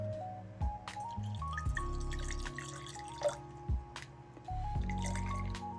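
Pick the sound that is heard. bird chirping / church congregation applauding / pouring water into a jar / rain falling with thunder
pouring water into a jar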